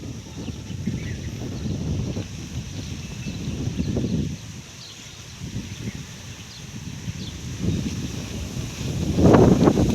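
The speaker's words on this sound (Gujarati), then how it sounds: "પવન બહુ છે" Strong wind gusts roar across a rural plot planted with jamun, lemon and guava trees, a steady low buffeting rumble that swells and eases in waves and grows loudest near the end, with no voices.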